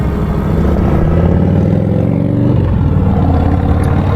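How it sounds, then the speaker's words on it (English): A Mokwheel Basalt 2.0 ST e-bike climbs a quarter-mile hill at full throttle. A loud, steady low rumble of motor drone, tyre noise and wind buffeting fills the whole stretch without pause. "So I'm just going to hold the throttle for this whole quarter-mile climb here."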